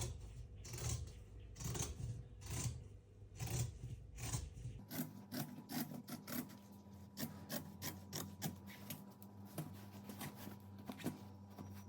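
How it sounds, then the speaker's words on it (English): Scissors trim the seam allowance of a fabric strapless top; a run of crisp, regular snips starts partway through, close and fairly quiet, after a stretch of softer rubbing and handling of the cloth. "Next, I'm going to trim the seam allowance in half on the top and the bottom."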